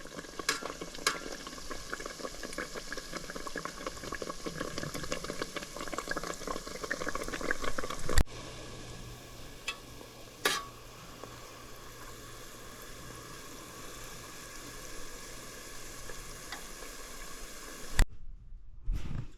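Festival dough, the Jamaican fried dumpling, sizzles steadily in hot oil, with crackling bubbling throughout. About halfway through there is a sharp clatter as the pieces are turned, and then quieter frying follows, with no one speaking.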